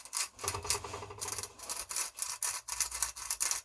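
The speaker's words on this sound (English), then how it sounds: "this grinder has steak seasoning in it. But I grind them like pepper" A hand grinder twists steak seasoning in short bursts of dry, gritty crunching and rasping, close by, with brief pauses between turns and no voices.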